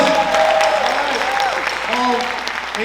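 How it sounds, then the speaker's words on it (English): Audience applause at a school diversity show, full and steady clapping from a crowd with cheering voices mixed in throughout. "applause!"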